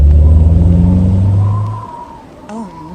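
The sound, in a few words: car driving in a video game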